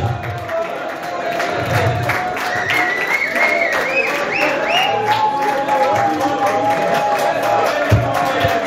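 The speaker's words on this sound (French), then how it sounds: "On peut les applaudir." An audience applauds at a sports podium ceremony, sustained clapping mixed with some cheering and tonal sounds like whistles or voices running over it.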